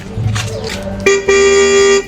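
The horn of a Goeen Chalo 1000 V2 lithium-ion electric scooter gives a loud, close, steady electronic tone lasting about a second. It follows a brief warbling tone, with faint background talk before it.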